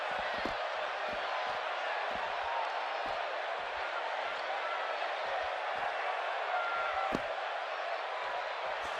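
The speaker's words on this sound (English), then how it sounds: "by the sound of this crowd, I think they're getting what they wanted" In the WWE 2K17 wrestling video game, an arena crowd roars steadily through a match, punctuated by sharp slams and thuds, while a commentator talks over the noise.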